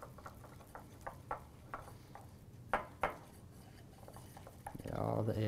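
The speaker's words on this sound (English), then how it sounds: "And just whisk that up." Glaze being whisked in a bowl for raspberry and almond shortbread cookies, the whisk tapping the sides in quick, light clinks with a couple of sharper knocks, close by and fairly quiet, ending in a louder rushing scrape.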